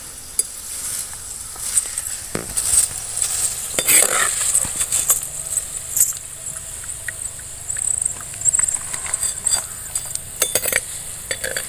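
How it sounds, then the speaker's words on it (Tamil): Dried cluster bean vathal is frying in oil in a pan, giving a crackling patter and sizzle broken by irregular clinks and scrapes of a utensil against the metal, close and fairly loud. "இந்த அளவுக்கு வறுத்த பிறகு நம்ம எடுத்துக்கலாம்"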